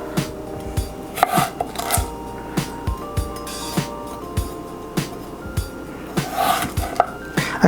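A knife chops through potatoes on a cutting board in a home kitchen, a steady run of crisp, evenly spaced thuds close up, with faint pan sizzle and kitchen clatter behind.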